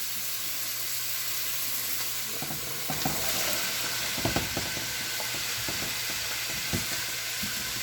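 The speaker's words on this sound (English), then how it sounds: "And in I go with the vegetables." Vegetables hit a hot pot for minestrone soup and sizzle steadily, a continuous close frying hiss broken by a few clanks and stirring knocks, with no talk.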